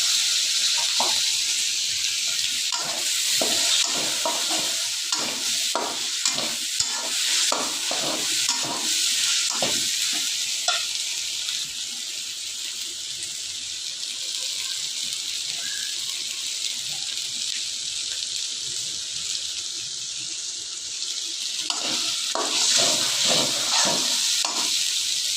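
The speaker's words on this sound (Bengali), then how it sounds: "মশলাটাকে কষাবো ভালো করে।" Tomatoes and a spice mix sauté in oil for a beef bhuna curry, a bright continuous sizzle marked by rhythmic scraping stirs early on, a calmer stretch, then more stirring strokes toward the end.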